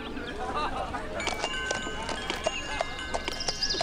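Horse hooves clip-clop in quick runs with a brief neigh, set among busy city ambience in the Zeus and Poseidon building game, with a faint voice in the background.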